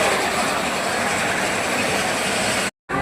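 A grain mill grinding coriander roars steadily at close range, a loud, even mechanical drone that cuts out abruptly for a moment near the end.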